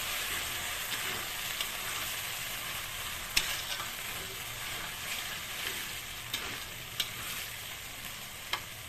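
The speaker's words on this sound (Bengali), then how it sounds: "আরও ভালো করে কষিয়ে নিই" Pointed gourd and potato curry sautés with salt, turmeric and a little sugar, a continuous dense sizzle with occasional soft spatula taps against the pan, steady and unaccompanied by speech.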